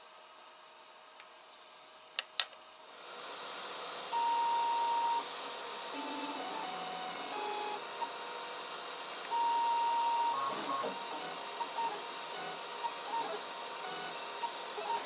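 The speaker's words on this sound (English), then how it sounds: "So printing at that speed seems okay." A 3D printer prints a small starter pawl for a model diesel engine, with a few sharp clicks, then a steady whirring hum broken by stepper-motor tones that rise and fall at close range.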